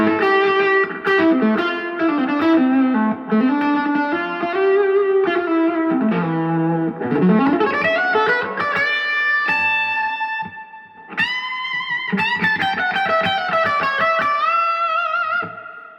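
Distorted electric guitar lead lines played through a Rockit Super Lead 130 1x12 combo amp, an 80s New Zealand Boogie-style amplifier, with sustained bent notes and fast phrases, loud and close with reverb, and no talking.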